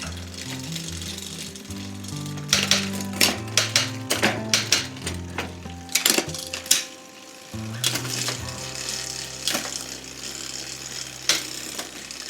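Shimano CUES drivetrain on a VooDoo Bokor mountain bike spinning with loud, rapid mechanical clicking and ratcheting in irregular bursts, over a faint low hum.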